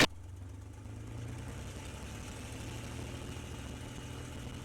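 A P-51 Mustang's piston engine drones steadily and fairly loudly as the throttle is advanced, with a low, rough, even roar and no one talking.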